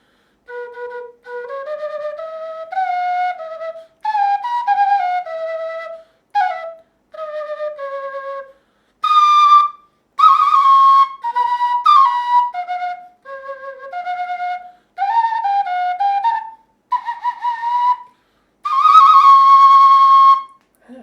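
A cheap Thai bamboo flute (khlui) plays a slow melody alone, breathy sustained notes in short phrases separated by pauses, with occasional slides and higher passages.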